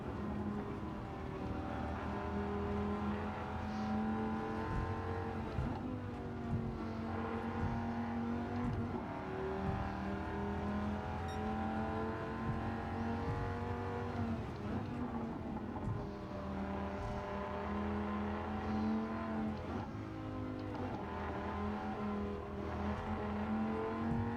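A Dodge Viper GTS in Gran Turismo 7 roars steadily through a long run, its engine note rising and dropping through gear changes as it accelerates out of corners, loud and continuous throughout.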